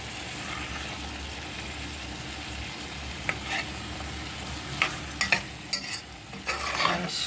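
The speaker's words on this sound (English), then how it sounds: "you can hear the simmering sound of the food cooking" Food simmering and sizzling in a pan while being stirred, a steady soft bubbling hiss with occasional scraping stir sounds and clinks toward the end, close and moderately quiet, no talking.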